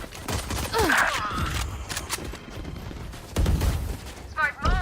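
A grenade blast in the video game Valorant among a rapid burst of gunfire and booming impacts, loud and close, with a player's voice talking over the combat.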